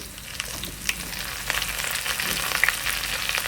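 Browned onion with ginger garlic paste fries in a pan with a continuous close sizzle and crackle, punctuated by small scraping stirs.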